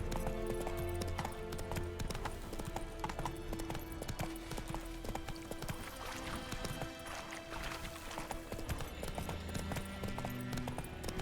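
In the Witcher 3 video game, horse hooves clip-clop in a brisk, continuous trot, clear and close, with faint game sounds behind.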